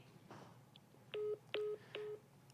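Telephone dialing tones on a phone call: three loud, evenly spaced DTMF key beeps, each lasting about a fifth of a second, over a low background hum with no talking.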